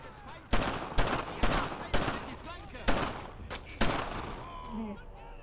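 Several sharp, loud gunshot bursts crack out in an irregular series in the World War II shooter Brothers in Arms: Earned in Blood, with video-game battle noise and rumble filling the gaps between them.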